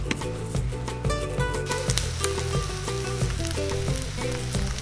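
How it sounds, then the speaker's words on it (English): An egg fries in a pan with a loud, close, continuous sizzle and crackle, broken by a few light taps from a utensil, with no voices. "you can also fry an egg to go along with it"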